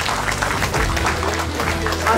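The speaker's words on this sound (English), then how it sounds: "Please give them a good round of applause" Applause rises from the audience at a college award ceremony honouring a member, a dense, steady patter of clapping mixed with crowd murmur and a low hum from the hall.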